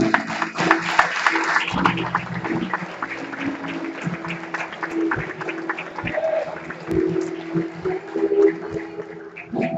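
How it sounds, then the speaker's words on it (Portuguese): A church congregation applauds during a worship service, with scattered sharp claps over a bed of music and voices that swells and continues throughout. "Pode aplaudir o Senhor"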